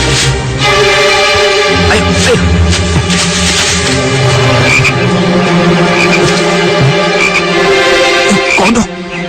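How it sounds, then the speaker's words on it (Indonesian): Frogs croak loudly and continuously in a dense, overlapping chorus, with a voice briefly speaking over the racket. "Kodok."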